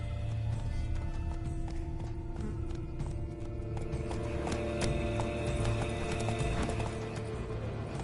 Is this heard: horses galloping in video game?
yes